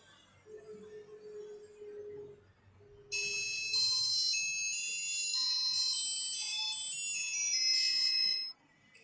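A repaired mobile phone speaker, tested after a speaker fix, plays a bright, melodic ringtone. It starts suddenly after a few seconds of faint low hum and carries on loud and steady for about five seconds before cutting off.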